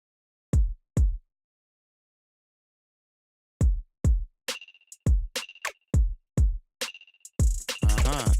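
Percussion parts of a modern dancehall beat programmed in Logic Pro: two isolated low hits, a pause, then a syncopated run of kicks and bright clicky percussion building up, with a dense noisy burst near the end.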